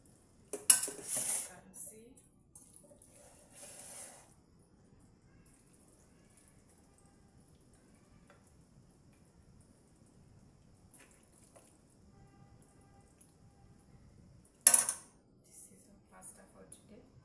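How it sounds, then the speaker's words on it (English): Pasta is served with utensils clinking against dishes, a few sharp metallic clatters near the start and another near the end, separated by long quiet stretches with faint handling noises. "I'm starting by serving the pasta."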